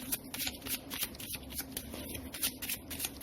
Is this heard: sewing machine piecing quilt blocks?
no